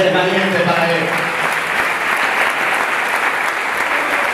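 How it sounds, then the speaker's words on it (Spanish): A church congregation breaks into loud, steady applause during a sermon, a dense wash of clapping that swells after a voice trails off at the start and then holds evenly to the end. "denle un fuerte aplauso al Señor si eres valiente para él"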